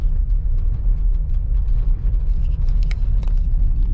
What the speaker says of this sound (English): long drive down, but the Jeep is the perfect vehicle to do this in